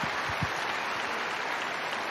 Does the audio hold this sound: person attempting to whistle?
no